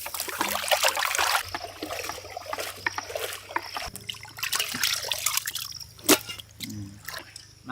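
Water trickles and drips while a pan is rinsed, with a steady running flow, scattered splashes and sharper drops throughout, fairly close and moderately loud.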